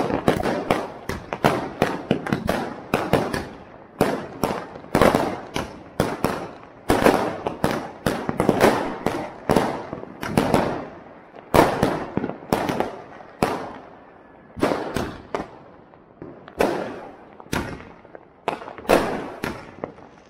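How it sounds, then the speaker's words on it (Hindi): Firecrackers bang again and again in rapid, irregular bursts during Diwali night celebrations in a street, loud and close, with sharp cracks and booming thuds echoing between buildings. "गली में पटाखे देखिए कैसे चल रहे हैं"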